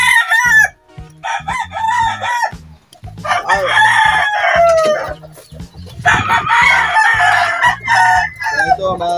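Backyard chickens with young chicks, with a rooster crowing repeatedly up close over steady clucking and peeping from the flock.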